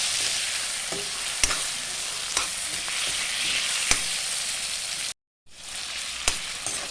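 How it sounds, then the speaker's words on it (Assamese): Chicken sizzles steadily in oil over a low flame, a dense even hiss broken by a few sharp clicks of stirring and one brief dropout before the frying resumes. "মই এনেকৈ ল' ফ্লেমত ৰাখি মই অলপ দেৰি চিকেনখিনি ফ্ৰাই কৰি ল'ম"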